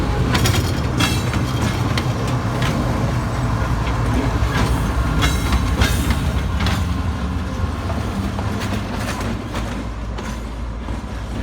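A train from Rawalpindi pulls into Karachi Cantt station, its steady rumble and clatter filling a loud, continuous wash of platform noise with scattered metallic clicks throughout.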